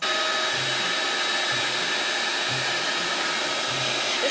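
Vacuum grooming tool run over a dog, producing a loud, constant close-up whooshing roar with a slight low pulsing underneath and no talking.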